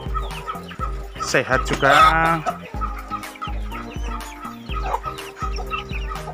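Chickens clucking close by in a coop, with repeated clucks and a brief squawking call; a person talks over them.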